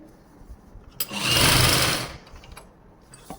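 Sewing machine stitching salwar fabric, a single loud whirring burst of about one second that swells and fades, set between quiet moments with light handling noises.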